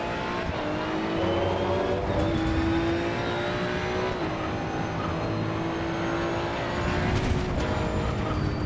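Maserati GT2 race car in Assetto Corsa EVO, engine droning loudly with rising and falling pitch through gear changes and throttle lifts, continuous and close.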